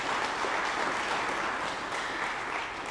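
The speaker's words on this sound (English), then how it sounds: "So let's clap for you." An audience at a policy lecture on climate action claps for the students, a steady, even burst of many hands applauding for about three seconds with no talking on top.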